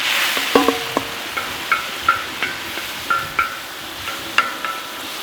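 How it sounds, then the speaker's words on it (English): A tomato mixture cooks on a plow blade discada, a soft steady sizzle broken by repeated metallic scrapes and taps of a utensil against the steel, close by with no talk. "we're just gonna cook this down just a little bit until some of these tomatoes release some of their liquid"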